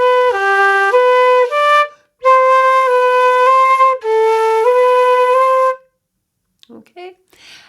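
An Irish wooden flute plays a phrase of a traditional tune, The Humours of Ennistymon, sounding clear, close and solo in three legato bursts broken by short breaths, with a few faint soft noises after the music stops.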